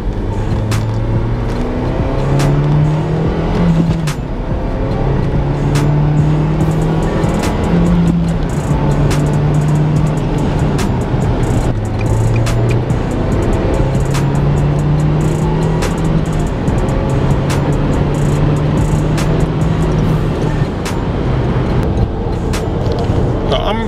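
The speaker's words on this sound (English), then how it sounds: "So anyway, let's go for a drive." Steady rumble of a Mazda RX-7 FD Type RS rotary-engined car driving on the motorway, with engine tone rising and falling through gear changes as someone talks over it throughout.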